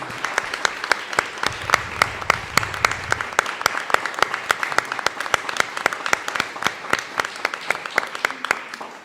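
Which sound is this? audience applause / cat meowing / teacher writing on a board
audience applause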